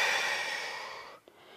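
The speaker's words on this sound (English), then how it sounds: "Breathe in at the bottom, and then exhale." A long, steady exhale during a Pilates exercise, breathy and close, fading gradually and ending with a brief soft catch of breath.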